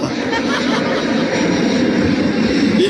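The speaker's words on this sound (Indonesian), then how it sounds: "Ada pesawat kita." An airplane flying overhead, a loud, continuous roaring engine rumble filling the whole stretch with no clear speech on top.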